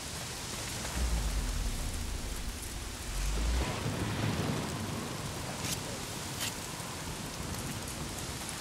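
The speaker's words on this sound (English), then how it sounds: "Got a little cover from the rain." Steady heavy rain in the video game Days Gone hisses throughout, with low rumbling swells like distant thunder early on and a few sharp ticks later.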